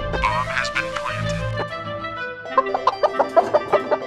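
Chickens cluck in Counter-Strike: Global Offensive, a quick run of short, evenly spaced clucks near the end, after a busier stretch of game sound.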